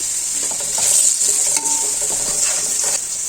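Onion and turmeric frying in a pan while being stirred, giving a steady loud sizzle with scraping stir strokes throughout and no talking.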